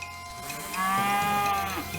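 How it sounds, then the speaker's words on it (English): Cow in the video game West of Loathing lets out one long, loud moo that rises over a droning game background and then fades. "That is a cow."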